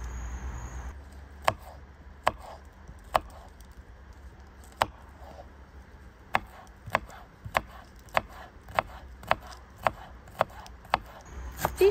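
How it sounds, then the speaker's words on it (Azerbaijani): Close knife strikes on a cutting board as a single garlic clove is chopped, sparse at first, then a quicker run of crisp, regular taps in a quiet kitchen. "Və bir diş sarımsağı doğrayıram."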